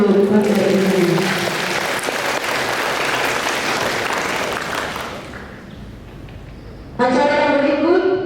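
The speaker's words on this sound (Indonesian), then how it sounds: "Mari kita berikan aplaus untuk Bapak Ibu" Audience applause at a Christmas and New Year celebration, a dense, sustained clapping that fills several seconds, thins out toward the end, and then gives way to a voice speaking.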